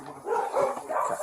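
Dogs bark and yip in rapid succession, several close overlapping barks in a short stretch, somewhat muffled as if picked up in police footage.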